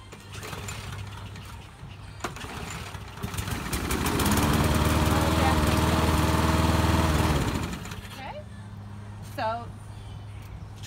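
A lawn mower engine revs up to a loud, steady drone for several seconds, then cuts back down, with speech heard before and after the run.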